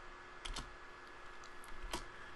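Two or three quiet keystrokes tap on a computer keyboard, isolated clicks over a faint steady hum in a quiet room.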